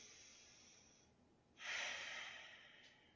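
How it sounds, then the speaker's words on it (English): One slow, deep breath during a yoga session: a quiet inhale, then a louder, breathy exhale, close and alone. "One more deep breath."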